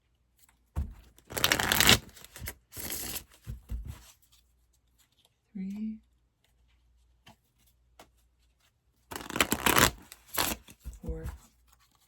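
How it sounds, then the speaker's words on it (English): Tarot cards are shuffled in several short, dry riffling bursts with quiet gaps between them, close and crisp. A voice speaks briefly in between. "I said to shuffle like 5 times."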